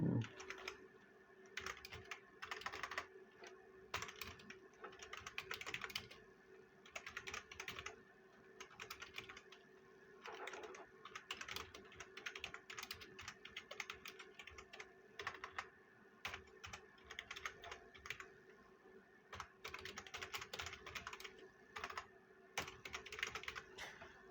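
Steady typing on a computer keyboard, rapid uneven clusters of soft clicks heard close and quiet with no talking.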